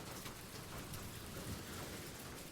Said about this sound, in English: It drums softly, a fuller chorus against the glass.